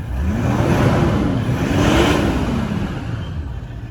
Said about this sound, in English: we'll give it a bit of a rev so you can hear it.